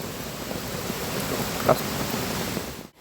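Water rushes steadily at a village waterfall, a dense continuous roar heard close and alone, with a brief louder splash midway before it fades out at the end.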